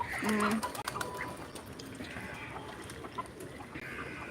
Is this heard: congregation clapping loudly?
no